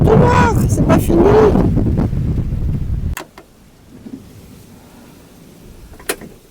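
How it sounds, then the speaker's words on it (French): Wind gusts roar against a van, loud and close at first and mixed with a voice talking, then drop to a low, quieter rush with a few sharp knocks. "C'était que du vent."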